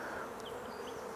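A fairly healthy, uncongested colony of honey bees in an open hive gives off a dense, steady buzzing hum that carries on unbroken throughout, close and even, with no talking.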